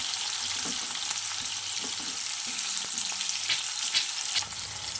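Onions fry in a pan with a steady, bright sizzle, and a few soft scraping stirs and clicks come through close up; no one speaks.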